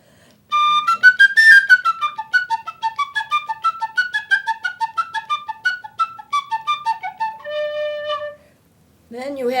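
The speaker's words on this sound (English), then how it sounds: "This is a penny whistle." A penny whistle plays a quick, bright melody of short tongued notes, ending on a held tone, then a new note starts after a brief pause.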